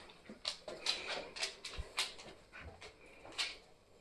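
A dog pants and whimpers quietly nearby, with a run of soft breathy huffs and faint whines repeating irregularly over a few seconds, with no talking.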